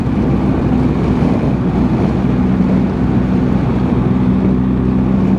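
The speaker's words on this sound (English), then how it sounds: "It's that Arctic wind it's cutting." Cold Arctic wind buffets a BMW R1250 GS motorcycle touring through Finnish Lapland, a loud, constant roaring rush mixed with engine drone, with no one speaking.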